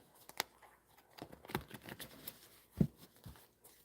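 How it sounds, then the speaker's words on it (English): Soft, scattered riffling and flicks of tarot cards being shuffled close by, a few sharper snaps among quiet shuffling, with no talking. "One more shuffle."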